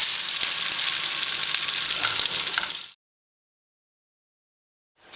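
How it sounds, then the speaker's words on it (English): Loud, steady sizzling of crab cakes frying in a little oil in a skillet for about three seconds, then it cuts to silence before a brief return. "heat a little oil, not much, because you don't want it to go too soggy, in a skillet or a frying pan"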